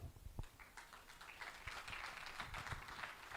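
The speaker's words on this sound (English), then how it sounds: "Is that the applause you give for a 1st place winner in physics in particular?" An audience at an award ceremony claps continuously for a first-place physics winner, faint and somewhat distant, a steady patter of many hands with a few louder claps near the start and no talking.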